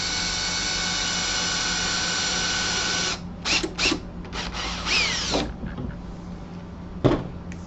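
Power drill boring pilot holes into wood ahead of fastening Romex cable staples, a loud steady whine for about three seconds, then several short bursts and trigger pulses with a sharp knock near the end.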